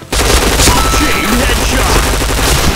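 Rapid automatic gunfire from the online shooter game Point Blank, loud and continuous bursts of rattling shots filling the whole stretch with a faint voice beneath.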